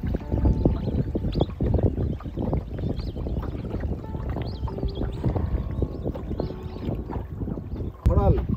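A boat moves on the river at Chupir Char, Purbasthali, with water splashing and wind buffeting the microphone throughout, a busy, rough wash of noise with people talking and a brief call near the end.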